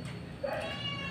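A cat gives a single short, faint meow in a home where a meal is being eaten, rising briefly above quiet room background.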